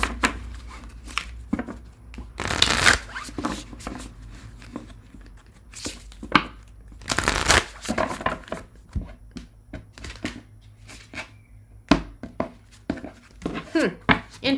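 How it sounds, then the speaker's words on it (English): Tarot cards are shuffled by hand, a run of crisp riffling and slapping bursts with two longer rushes, close and irregular, with speech heard between them. "I'm gonna shuffle, and we will move on to Libra"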